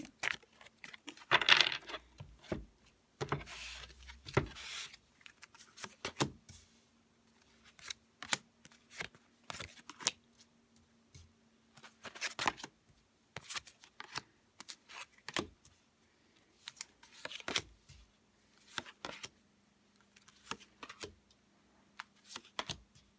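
Tarot cards being shuffled and laid out by hand, quiet scattered riffles, slaps and soft taps spread across the whole stretch with a faint steady hum beneath.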